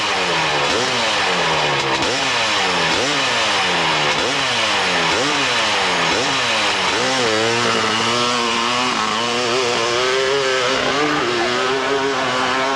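Husqvarna-powered Swedish motorcycle at a 1996 AMA hillclimb in Monson, Massachusetts, its engine revving loudly and repeatedly in rising bursts, then holding a higher, steadier roar as it climbs, with no talk over it.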